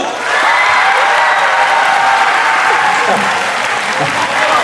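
A school audience at a Busan high school dance contest claps loudly to vote for the second dancer, dense continuous applause with light cheering that swells and holds for several seconds.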